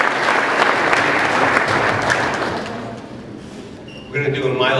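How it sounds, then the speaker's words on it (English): Applause from a concert audience for trumpet and piano players at a county jazz band performance, a dense wash of clapping that thins out, followed by brief knocks and shuffling. "Let's give those guys a big round of applause."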